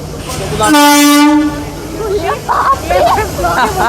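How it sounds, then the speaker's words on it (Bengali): A Humsafar Express train pulls into a station, sounding a loud, close horn blast for about a second amid rumbling platform noise, with people talking over it. "পুরো 9:05 ঢুকছে আমাদের ট্রেন।"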